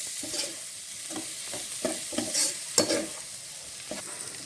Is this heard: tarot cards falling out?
no